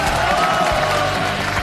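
A studio audience applauds at a televised Liaoning TV dating and confession show, a steady, dense wash of clapping that carries on without a break, with a faint tonal hum running underneath.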